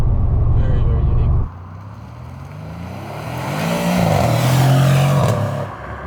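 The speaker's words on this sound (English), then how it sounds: "Then just cruising right now, upshifting." A 2021 Mercedes-AMG C63S Coupe with a V8 cruises along, its engine droning loud and low before dropping off at an upshift, then rising again with a climbing tone; a voice talks over it.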